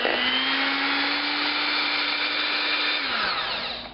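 An electric mixer whirs steadily and close as it blends cinnamon roll cheesecake batter with an added egg. The motor holds an even whine, then drops in pitch and winds down as it is switched off.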